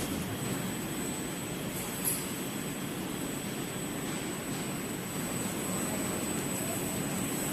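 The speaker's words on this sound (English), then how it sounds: "At first you should wind the zipper slowly" An automatic waterproof zipper winding machine runs at slow speed, giving a steady, even mechanical hum and whir with no clear rhythm, moderately quiet and continuous throughout.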